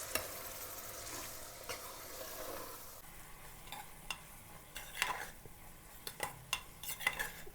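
A spoon stirs a vangi bath masala mixture in a pan, scraping and clinking against the metal in irregular strokes over a soft, steady sizzle.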